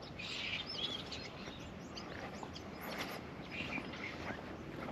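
Birds chirp and tweet in scattered high calls over a steady outdoor background hiss on Table Mountain, Cape Town, with no talking.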